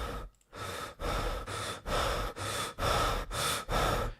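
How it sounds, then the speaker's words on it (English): A series of breathing sound cues, eight rhythmic breaths recorded close, each a loud airy rush separated by brief pauses, growing slightly faster and stronger toward the end. "These are 5 start breathing sounds"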